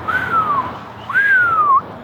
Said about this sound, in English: I can't whistle anymore.